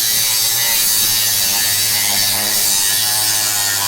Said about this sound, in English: getting ready to cut a big hole in my dash where that switch box is gonna go